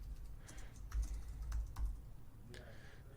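Someone types a street address on a computer keyboard, producing soft, faint, scattered keystrokes over a low room hum with no talking.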